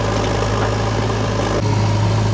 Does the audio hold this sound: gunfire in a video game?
no